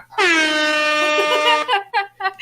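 A single loud, sustained air horn blast of about a second and a half, followed by brief bursts of talk.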